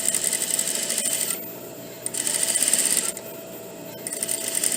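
Sewing machine stitching along the edge of a shirt collar, a steady close whirring in bursts separated by short pauses.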